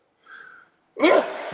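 A person sneezes once, a short breathy intake followed by a loud, sharp burst that trails off, with no talk around it.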